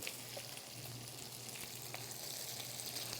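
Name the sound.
onions frying in bacon fat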